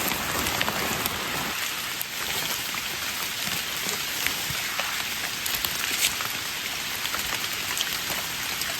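Steady rain pattering on a surface, dense and continuous throughout with scattered louder drops, no voices.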